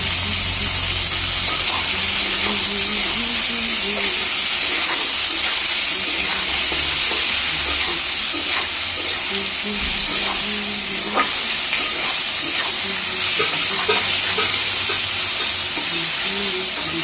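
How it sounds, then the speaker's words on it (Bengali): Potatoes and onions for a cauliflower sabji fry in a pan with a loud, dense, continuous sizzle and occasional stirring scrapes, close up and steady throughout without speech. "দেখুন বন্ধুরা, আলু পেঁয়াজটা ভাজা হয়ে গেছে"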